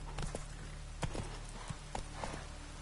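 Roach the horse galloping in The Witcher 3 video game, quiet hoofbeats clopping in an uneven rhythm over a low steady background hum.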